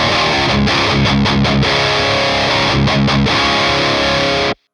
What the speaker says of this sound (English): and for B, the crunchy channel.